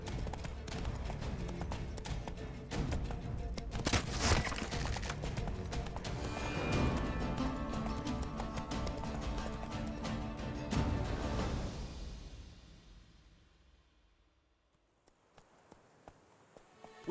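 Roach the horse in The Witcher 3 walks with steady hoof clip-clops under a busy background of game ambience that fades near the end, followed by a few sparse, isolated steps.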